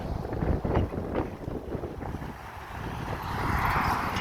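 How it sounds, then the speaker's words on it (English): Strong wind buffets the microphone in loud, gusty rumbles, rising and falling throughout with no voices, outdoors in Hilo, Hawaii. "It's really windy today."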